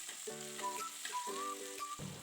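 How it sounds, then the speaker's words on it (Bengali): Dried red chillies and garlic paste frying in oil over a low gas flame, a soft sizzle heard faintly beneath clear tonal, melodic sounds. "গ্যাসের লো ফ্লেমে শুকনো লঙ্কাগুলো একটু ভেজে নেব।"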